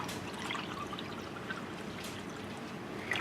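Water pours from a container into orange MRE drink powder, giving a continuous trickling, splashing stream for a few seconds, close and clear with no voices.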